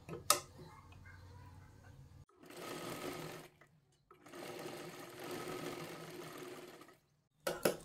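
A sewing machine stitches a seam on a size 36 three-piece princess blouse in two steady runs separated by a short pause, with sharp handling clicks at the start and end.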